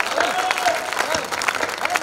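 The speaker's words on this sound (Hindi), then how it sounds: "एक बार दोनों हाथ उठा करके जानदार शानदार तालियां पंडित योगेंद्र शर्मा के लिए बजा दें" Audience applause at a kavi sammelan poetry gathering at a Dussehra fair in Banswara, loud continuous clapping filling the whole short stretch, mixed with faint crowd noise.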